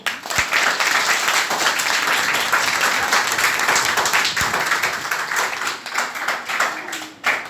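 Government senior secondary school students clap together at a Sahaj Yoga meditation session in Sarhaul, Gurugram, a dense sustained round that thins and tapers off toward the end.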